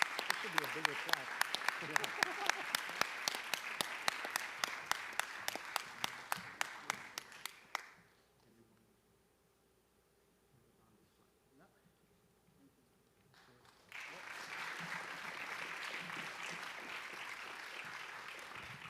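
Applause at a high school fine arts awards ceremony: a crowd claps steadily for several seconds, falls almost silent, then a dense wash of clapping swells up again and carries on.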